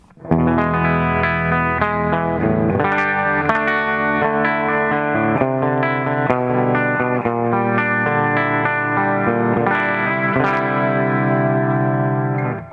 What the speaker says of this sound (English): Here's the clean sound. I'm using a Fender DeVille amplifier with 212s and just a PRS.